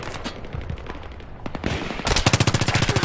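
An M5K submachine gun firing in Battlefield 3, heard first as scattered distant shots, then a loud, sustained rapid burst of evenly spaced automatic fire at close range, with no speech.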